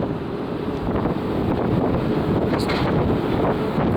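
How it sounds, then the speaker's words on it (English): Heavy wind roars across the deck of the Celebrity Century cruise ship in Alaska, a loud, constant buffeting rush blasting the microphone with occasional gusts and faint rattling. "It's cold up here with the wind."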